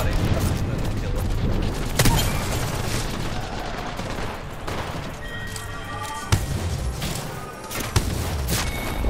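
Rapid gunfire from a Spitfire light machine gun in Apex Legends, dense sustained bursts with sharp louder shots and a few booms, near and loud throughout a chaotic firefight.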